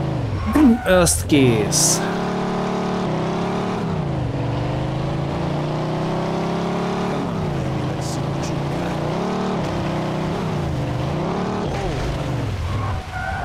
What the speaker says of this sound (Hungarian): Milyen indító van abban, hogy még csak be se ülök, már elindul a motor?